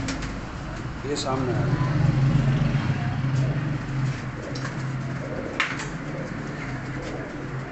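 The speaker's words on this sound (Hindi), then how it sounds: "इसके साथ ये सियालकोटी जोनसरा कबूतर है" Sialkoti pigeons coo in low, repeated murmurs under steady background noise while someone talks over them close by.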